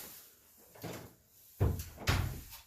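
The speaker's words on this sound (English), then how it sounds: "Close the door." A door pushed shut in a room being prepared for sanding joint compound, several soft thuds and a bump, the two last and loudest close together, near and brief.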